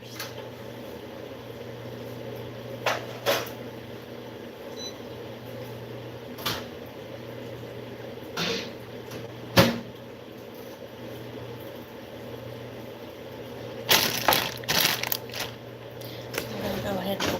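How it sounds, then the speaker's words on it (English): Metal burner covers lifted off a kitchen stove, heard as a handful of sharp, separate clanks and clatters spread irregularly over a steady low background hum in a quiet kitchen. "Let me move off all the burner covers."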